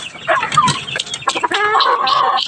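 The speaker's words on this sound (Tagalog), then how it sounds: "Pakain muna tayo sa mga manok ng ating asawa." A close flock of chickens clucks busily while being fed, with overlapping cackles and squawks coming in dense, uneven bursts that stay loud throughout.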